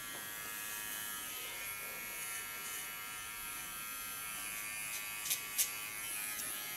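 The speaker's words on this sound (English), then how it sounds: "And support my clipper of course with the other hand." Electric hair clipper buzzing steadily while trimming a short feminine haircut at the neckline, a constant close hum with two brief louder bursts near the end.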